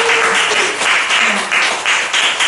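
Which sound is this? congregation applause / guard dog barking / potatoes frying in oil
congregation applause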